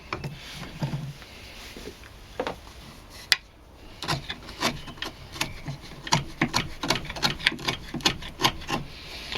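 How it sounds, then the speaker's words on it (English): An old chisel pares plywood by hand, making a run of short, sharp scraping cuts and taps close by. The strokes come quicker and more regularly in the second half. "So I'm just going to take all the large bits off first with this relatively old chisel."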